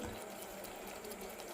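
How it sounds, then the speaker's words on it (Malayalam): A faint, steady wash of water being poured into a pan of chili curry, a soft continuous hiss with no talking over it. "കുറച്ചുകൂടെ വെള്ളം ഒഴിച്ച് കൊടുക്കുക അതിനകത്ത്."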